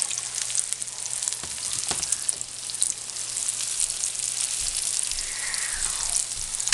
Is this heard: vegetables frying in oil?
yes